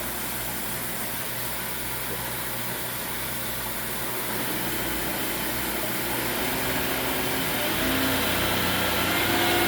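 PM-940M CNC conversion mill with the spindle turning at roughly 6,000 RPM, a steady broad whirring roar with faint whine that swells slightly toward the end, continuous and close with no speech.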